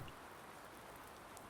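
Rain in the video game Farming Simulator 19 on a homestead farm, a faint, steady hiss of falling rain with a soft patter of drops, continuous and alone without voices.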